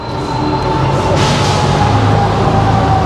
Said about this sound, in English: a subway line passing above ground, which is served by the 6 train.